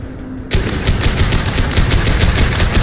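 Rapid automatic gunfire from Mass Effect 2, a sharp burst kicking in after a brief quiet start and then hammering on in a steady, loud stutter of repeated shots to the end.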